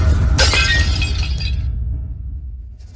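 A liquor bottle smashes loudly and shatters, with a bright burst of breaking glass followed by debris settling and fading to near silence; no voices are present.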